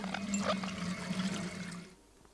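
Water gushes from an opened valve into a bucket in the video game Underground Blossom, a steady rushing pour for about two seconds that cuts off abruptly.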